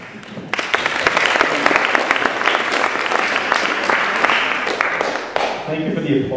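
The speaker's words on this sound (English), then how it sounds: "Thank you for the applause." A theater audience bursts into loud, sustained clapping that swells quickly and holds for several seconds before fading, with a voice speaking briefly near the end.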